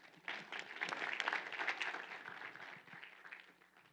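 Faint applause from a conference audience, a few seconds of scattered clapping that swells and then thins out, with no one speaking over it.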